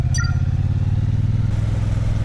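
A Triumph Bonneville T120's water-cooled 1200cc parallel-twin engine runs loud and close with a throbbing, pulsing idle rumble, plus a brief high metallic clatter near the start and no talking.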